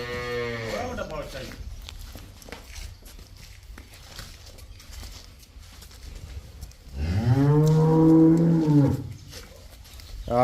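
Cows on a dairy farm low loudly, one long moo near the start and another strong drawn-out moo later, with quieter barnyard shuffling in between.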